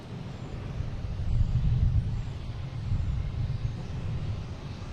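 Airliners arriving and departing at Boston Logan airport, heard as a distant low jet rumble that swells and fades under steady outdoor wind and background noise.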